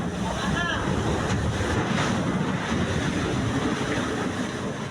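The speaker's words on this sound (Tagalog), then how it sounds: "umugong ang rumaragas ng tubig na tumagos sa barkong gawa lamang sa kahoy" Water from a China Coast Guard water cannon rushes loudly and steadily into a wooden ship, a continuous broadband roar like heavy surf mixed with wind buffeting, with no talk.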